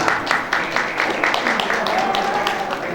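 Audience applause at the 9th Korea Happiness Sharing Volunteer Awards ceremony, a dense crackle of clapping that runs steadily through the moment while a presenter keeps speaking over it.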